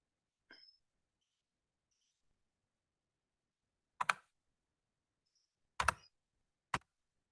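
Three sharp computer mouse clicks sound close and isolated in near silence, with a faint softer tick earlier.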